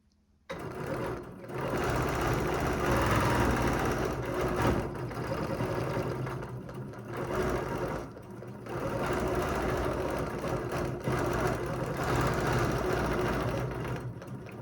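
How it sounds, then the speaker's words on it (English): Sewing machine stitching quilting lines with a ruler foot, running in a loud, continuous close whir with brief dips in speed, starting after a short silence. "I continuously stitch the same line again, and that is going to give me a mirror image of what I've just done."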